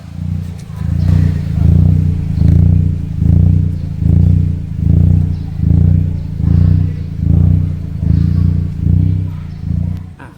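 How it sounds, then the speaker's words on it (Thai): Mitsubishi Attrage fitted with an electric throttle box producing a simulated blow-off effect, a loud low engine note swelling and falling in a steady pulse roughly every second, repeated about a dozen times. "อันนี้ก็เสียงหอบ"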